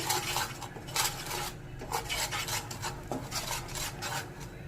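A spoon scrapes and stirs spices with salt and chili powder in a pan for a prawn and coconut dish, giving close, rhythmic metallic rasping strokes with a steady low sizzle underneath and no talking.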